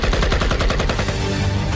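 Rapid automatic gunfire, loud and close, with evenly spaced bursts over the first second that fade into a ringing tail.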